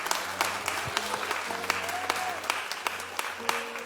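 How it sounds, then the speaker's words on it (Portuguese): Applause from a church congregation during a sermon, steady clapping with sharp hand strikes running under an ongoing voice, with a short organ or keyboard tone in the background. "Aplauda ele."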